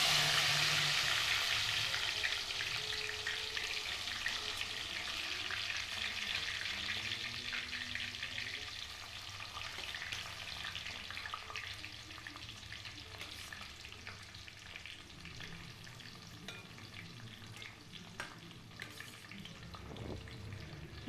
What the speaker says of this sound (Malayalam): ഇനി നമുക്ക് ഈ അരിഞ്ഞു വെച്ചിരിക്കുന്ന ഐറ്റംസ് എല്ലാം ഒന്നിച്ചാക്കി എണ്ണയിലേക്ക് ഇട്ട്